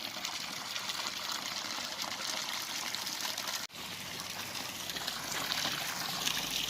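Spring water beside a mountain road trickles and gushes steadily, a continuous close splashing flow with a brief dip midway and no talking.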